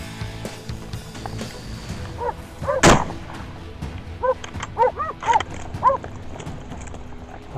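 A single sharp, loud rifle shot cracks out at close range during a driven hunt in the Balkan woods, followed by scattered barking of hunting dogs in the background.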